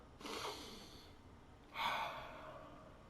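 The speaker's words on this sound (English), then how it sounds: "let's take our deep breath." Two slow, deep breaths drawn in and let out near the microphone, each an airy rush lasting about a second, quiet and alone without speech.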